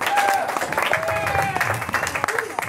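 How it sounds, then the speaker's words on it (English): Audience applause at a stand-up comedy show in Johnson City, Tennessee, a steady wash of clapping mixed with crowd noise and faint voices, moderately loud and continuous throughout. "So let's give her a round of applause."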